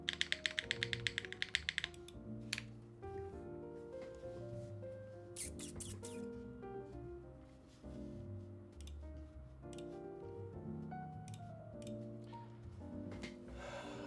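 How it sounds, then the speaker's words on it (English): Mechanical keyboard typing with a slappy space bar: a quick burst of rapid keystrokes, then scattered, heavier thocking key and space bar hits, close and fairly quiet, no talking. "the space bar on this one is super slappy"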